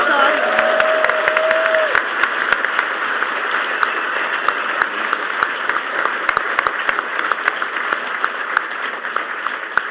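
A large convention audience at PAX applauds steadily for a long stretch, a dense wash of clapping with some louder individual claps, while speech runs over it.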